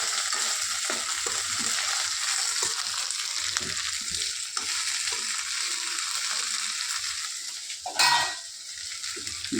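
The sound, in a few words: okra frying in oil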